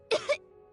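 A video game character from Genshin Impact coughs twice in quick succession, a close, dry, throaty pair of bursts followed by quiet.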